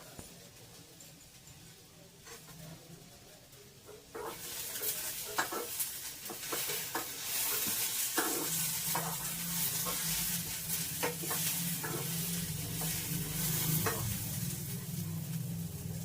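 Washed tamarind drops into a hot pan and begins frying, bursting into a loud, continuous sizzle after a quiet start, with spatula scrapes and clicks against the pan throughout.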